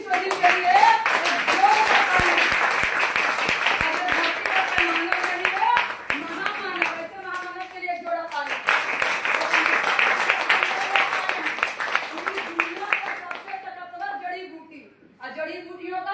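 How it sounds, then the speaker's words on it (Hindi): Applause at a DXN herbal product meeting in a hall, with dense sustained clapping from a crowd that fades briefly and then swells again, heard behind a loud amplified voice speaking over it. "जड़ी बूटियों का संजीवनी बूटी के लिए एक जोरदार ताली"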